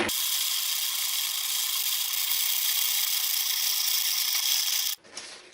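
A hand grinder on its finest setting grinds beans on a third pass, giving a loud, continuous gritty rasp close to the microphone. It cuts off abruptly near the end, leaving a short clatter.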